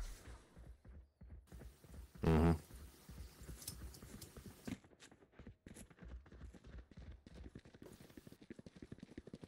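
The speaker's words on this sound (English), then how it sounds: "I got the sound of footsteps running to A." Footsteps running in the tactical shooter Valorant, a quick, steady patter of light thuds at moderate level, broken early by one loud, sharp burst.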